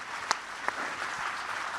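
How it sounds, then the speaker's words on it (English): Audience applause for Matt Damon at Cannes: a dense, steady wash of many hands clapping from a large crowd, moderately loud, with a couple of sharper individual claps standing out near the start. "A triumphant round of applause for Matt Damon"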